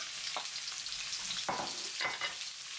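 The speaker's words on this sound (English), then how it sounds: "When the oil is hot, add the onions" Onions hitting hot vegetable oil in a pan over high heat, a soft continuous sizzle with a few brief stirring scrapes, close but fairly quiet.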